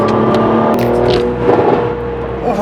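A Mercedes-AMG C43 running at high speed, its engine and exhaust giving a loud, sustained drone with shifting pitch, close and dominant throughout with no voices.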